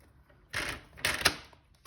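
A paper trimmer slicing through card: two or three short, crisp scraping swipes close by, separated by brief pauses, with no talking.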